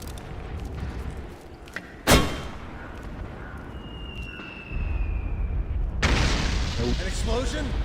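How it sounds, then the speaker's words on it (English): A sharp explosion bursts once near the start inside the Metal Gear Solid 4 game, loud and close, then rumbling game ambience and a swelling noisy roar follow, with dialogue spoken around it. "An explosion? I did nothing."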